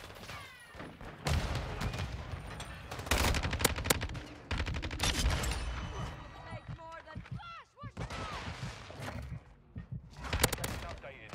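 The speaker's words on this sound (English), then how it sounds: "I shot him so many freaking times." Automatic weapon fire in a video game shooter crackles in rapid bursts, several loud sprays separated by short pauses amid game sound effects.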